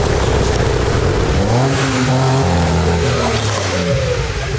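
A £500 drift car with a welded differential revs hard, its engine rising and falling in pitch as the rear wheels spin, loud and close throughout with no talk.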